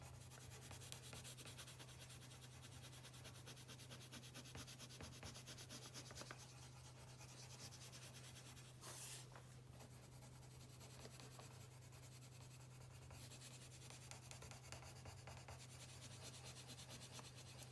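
A coloured pencil rubs steadily back and forth on paper under firm pressure, burnishing and blending dark blue with a faint, continuous scratchy drag and occasional catches, very quiet and close, over a low background hum.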